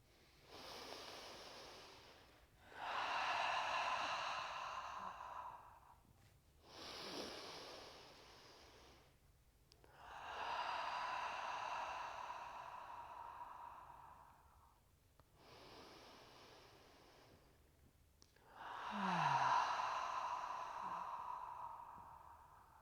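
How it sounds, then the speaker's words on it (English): Slow, deep breaths during a mat yoga cool-down, each long airy inhale and exhale swelling and fading in turn, about three full breath cycles, close and soft with no talking. "take 3 deep breaths into these giving hands"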